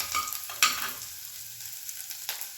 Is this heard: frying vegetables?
yes